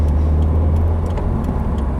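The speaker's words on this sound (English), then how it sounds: "Do a second gear pull and full throttle." A 2015 Subaru WRX pulls hard at full throttle in second gear, a loud, steady droning engine roar heard from inside the car, unbroken throughout.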